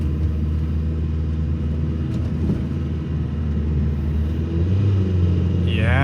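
A Nissan Pike car, one of the small retro Pao, Figaro or Be-1 models, climbs a big hill, its engine droning low and steady from inside the cabin and rising slightly near the end.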